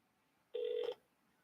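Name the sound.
telephone call ringing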